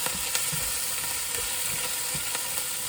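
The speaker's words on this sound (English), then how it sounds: "Right, in come the chilies." Chilies hit a hot pan with onions, garlic and ginger, giving a steady, close hiss of frying oil with a few soft scrapes of stirring.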